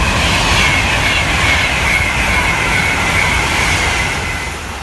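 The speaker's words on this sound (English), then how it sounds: "Passing through now is another Virgin Trains Pendolino service to London Euston." A Virgin Trains Class 390 Pendolino speeds through Tamworth station on the West Coast Main Line, a loud, continuous rushing roar with a high whine that eases slightly at the end.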